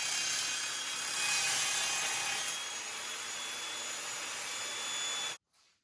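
An Evolution Rage 5S multi-material table saw cuts through metal unistrut, giving a loud, steady high-pitched whine and grinding rasp that holds for about five seconds, then stops abruptly.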